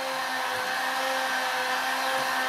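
A heat gun blows steadily as heat is worked around the lens of a Porsche Cayenne headlight, making a constant close whirring hiss with a faint tonal hum throughout.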